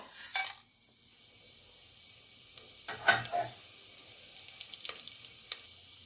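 Spices dropped into hot oil in a heated pressure cooker crackle and sizzle, with a few sharp bursts over a faint steady hiss and no talk.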